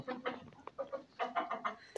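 A rooster clucks repeatedly in quick, choppy bursts, close and fairly loud, with no other sounds around it.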